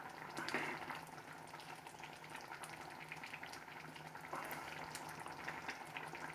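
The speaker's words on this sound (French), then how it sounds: "Je mélange." Lentils and potato bubble and simmer in a pot while being stirred, a soft, continuous wet bubbling with light scraping, close but fairly quiet.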